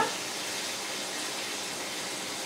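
Hot water drains from a pot of boiled viandas, a steady gushing splash that continues without a break at moderate volume, with no voices.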